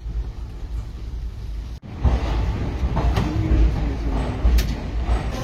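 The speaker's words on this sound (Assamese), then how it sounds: "এইখনে আমি অহা ৰেলখন গুৱাহাটী ৰেলৱে ষ্টেচন পাই গ'লো" A passenger train pulls into Guwahati railway station, a steady low rumble of rolling wheels with clanks and squeals rising after a brief gap, close and continuous.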